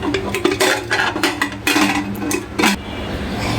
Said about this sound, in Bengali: এখানে প্রেশার কুকারে মুখটা বন্ধ করে দিই